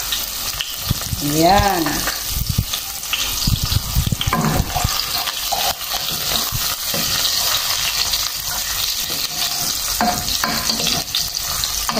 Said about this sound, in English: Patulain lang natin yung ating garlic.